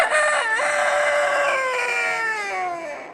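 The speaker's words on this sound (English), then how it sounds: "Invercargill was full of squawking birds over the weekend for a feather-filled pageant." Rooster crowing at a poultry and pigeon show, one long, loud, close cock-a-doodle-doo with a rising opening and a drawn-out, slowly falling tail lasting about three seconds.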